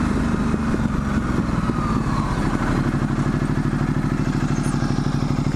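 A Ducati Multistrada 1260S in second gear at low revs, between 1000 and 2000 rpm, knocks with a loud, close, rapid, regular train of thumping pulses and chain-like clatter, with no talking.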